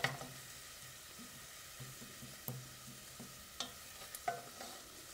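Breakfast cooks slowly in a pan on a wood stove, a faint, quiet sizzle with occasional soft taps and clicks of a utensil, close but low, without speech.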